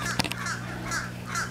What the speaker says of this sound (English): And see, the crows like her too.